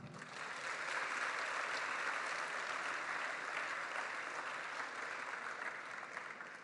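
A crowd applauding at a senior high school graduation ceremony, dense sustained clapping that rises quickly and holds steady for several seconds with a slight fade, heard from within the hall.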